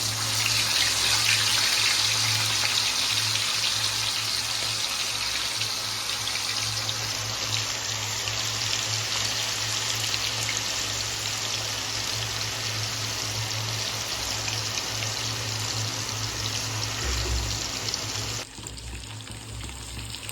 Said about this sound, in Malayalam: ചിക്കൻ നമുക്ക് വറുത്തെടുക്കാം